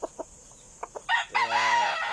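Breeding gamecocks cluck in a few short, close bursts before a rooster lets out a loud, drawn-out crow.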